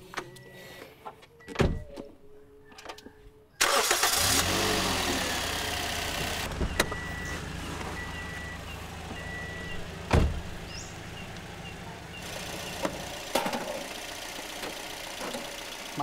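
A car engine cranks on the starter and catches, then settles into a steady idle, heard fairly close, with a few clicks and knocks around it.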